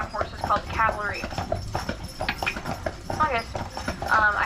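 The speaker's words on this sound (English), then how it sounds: "I usually drive a team of 3 white percheron horses called the Cavalry." Hooves of white Percheron draft horses clip-clop steadily as they pull a carriage on Mackinac Island, mixed with someone talking loudly over the rhythmic hoofbeats.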